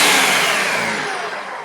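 A Ninja blender chopping garlic and green onion runs as a steady loud whirring motor that slowly fades slightly over a short stretch, with no talking.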